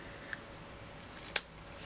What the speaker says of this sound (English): I'll take my scissors and I'm going to snip the tails.